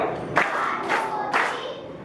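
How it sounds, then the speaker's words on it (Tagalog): A classroom of students claps on cue in three sharp, loud bursts of collective applause, each a quick flurry of hands, spaced evenly with brief pauses between. "bigyan ninyo ang inyong mga sarili ng mahusay na palakpak"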